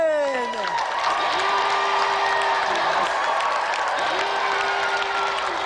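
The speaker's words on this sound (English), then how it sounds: "So let's give another round of applause for Clive Barton and Richard Walkling" Dense, continuous applause and cheering from a Gamesmaster game show studio audience fills the room at an even, loud level, with some voices mixed into the crowd.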